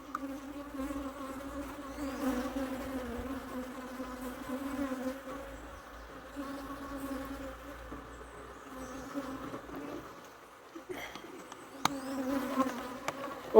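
Honey bees buzz around their hive in a steady, fairly faint drone, with individual bees passing nearby and a few sharp clicks near the end.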